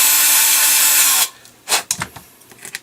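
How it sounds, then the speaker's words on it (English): A hand or power drill bores out a 3D printed part of an FDM filament loader, a steady loud whirring grind lasting about a second before cutting off, then followed by a few short scraping and tapping sounds. "Oops, I forgot to drill it out."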